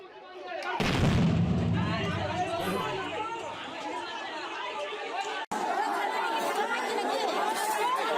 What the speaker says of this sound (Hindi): इस दौरान बमबाजी शुरू हो गई।